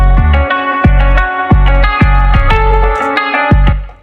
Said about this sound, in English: So that 808 I dragged into the sampler and processed it differently for the chorus